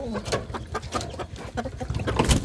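A chicken clucks close by in a rural provincial home, with short repeated clucks over a busy, rumbling background.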